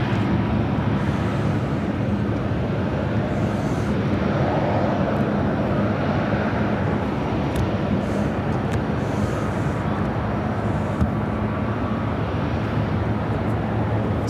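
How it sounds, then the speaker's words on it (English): A TAP Air Portugal Airbus A330neo airliner from Lisbon on short final to land at O'Hare, a steady broad engine roar at moderate distance, constant and unbroken throughout with no talk. "Tap Air Portugal on short final for 27 center."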